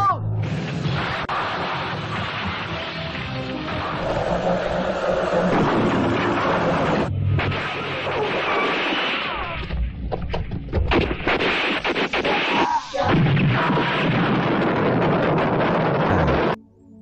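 Loud bursts of gunfire with heavy crashing and a booming impact as a car hits a fuel tank, dense and chaotic, cutting off abruptly near the end.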